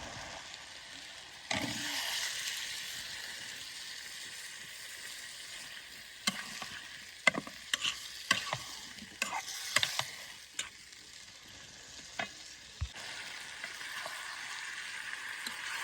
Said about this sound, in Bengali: এবার মশলা সব কষিয়ে নিতেছি